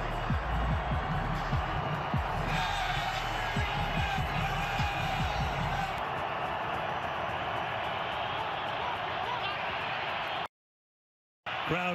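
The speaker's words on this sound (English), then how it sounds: "Crowd in full throat again." A football stadium crowd roars loudly and continuously, a dense wall of cheering with scattered thumps and claps. A commentator speaks briefly over it before the sound cuts out abruptly near the end.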